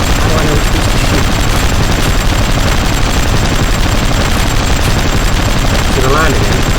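Rapid machine-gun fire from a vehicle in the video game Hard Truck Apocalypse, a dense, continuous stream of loud shots running the whole time with a brief voice near the end.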